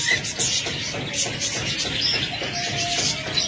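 Caged budgerigars, cockatiels and doves in a bird shop chirp and tweet continuously, with soft dove coos mixed into the busy, close-up chatter.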